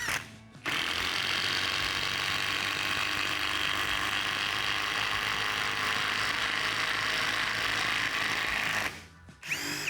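Procraft Industrial cordless impact driver running at third speed, a loud continuous rattling hammering whir that holds steady for about eight seconds, starting and stopping abruptly with short quiet gaps at either end.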